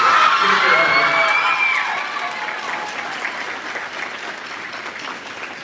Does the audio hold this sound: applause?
yes